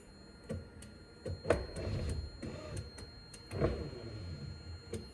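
A few sharp mechanical clicks of a 1984 Mazda RX-7 power window switch at irregular intervals, moderately close, with a faint whirring hum underneath and no voices.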